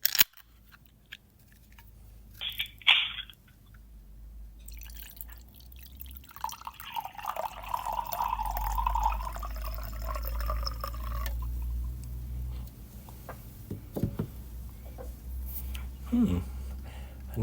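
A can of 2023 Spanish white wine blend cracks open with a sharp hiss, then wine pours in a steady, gurgling, splashing stream for several seconds, followed by faint drips and quiet handling sounds.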